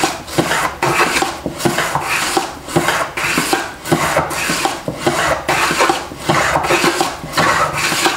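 A Stanley rabbet plane takes shavings from wood in a steady series of about a dozen close, loud, rasping strokes, each a fraction of a second long with brief gaps between passes.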